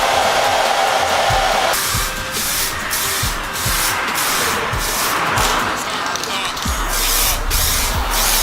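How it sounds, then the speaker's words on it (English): An old hair dryer blows steadily at close range, heating paint for a Honda Integra front lip, its whooshing hum continuous, with a shift in pitch partway through and some light tapping underneath. "hit this with a bit of heat from Mum's old hairdryer"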